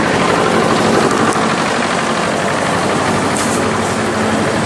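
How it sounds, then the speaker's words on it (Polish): A tractor passes close by on a road near a castle, its loud, rough engine drone steady and dominant throughout with no talking. "Jedzie akurat traktor"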